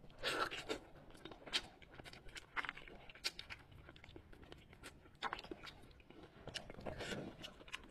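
Braised bullfrog in soy sauce is chewed close to the mic, with moist bites, soft crunches and smacking at an uneven pace that swells and fades over several seconds.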